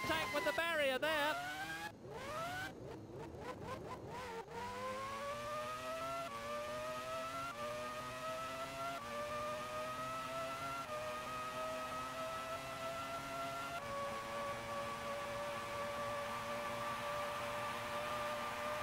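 Sauber Formula 1 car in the PS1 game Formula 1 (1995) at Italy, engine revving hard and climbing steadily through a long acceleration, loud and continuous after a brief scrappy burst at the start.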